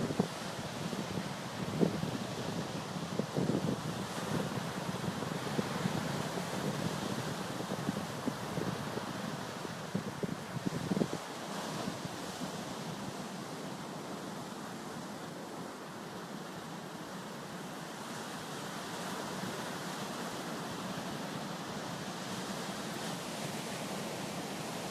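Ocean waves wash onto an Ocean City beach beside the boardwalk, a broad steady roar of surf with some wind buffeting, continuous and fairly distant throughout.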